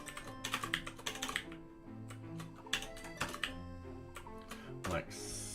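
A computer keyboard is typed on in quick bursts of close, crisp key clicks with short pauses between them, while someone talks quietly alongside.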